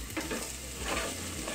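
Potato and onion frying in a pan over low heat with garlic about to go in, stirred with a utensil; a steady close sizzle with scraping stir strokes, no voices.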